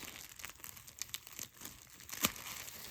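Packaging crinkles and rustles up close as a small Chanel bag box is opened, with soft, irregular crackles and one sharper rip near the end.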